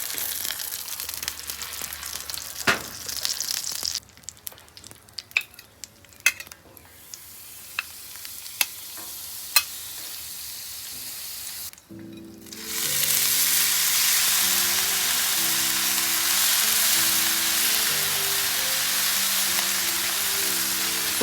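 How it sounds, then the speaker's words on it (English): Frozen hash browns fry in butter and oil on a flat top grill, with scattered scraping clicks as they are stirred, then a loud, steady, close sizzle takes over for the rest. "right now I'm just mixing it up, letting it gather all that butter and oil"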